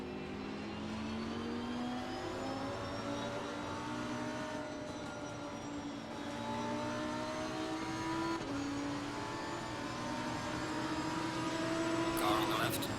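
Race car engines in the Assetto Corsa Competizione racing game drone steadily, with pitch rising and falling as the cars accelerate and shift gears. A continuous, moderately loud engine tone carries through the whole stretch.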